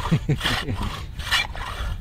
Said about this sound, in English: the saw is by far the most draining part of this